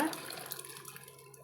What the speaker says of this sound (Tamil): நம்ம சாம்பாருக்கு தேவையான அளவு தண்ணியும் இதில் சேர்த்துக்கலாங்க